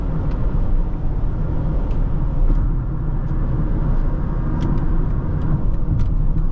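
Cabin rumble of a 2023 BMW X3 30i xDrive while cornering, a steady low engine and road drone with faint tyre and body noise, no voices, continuous throughout.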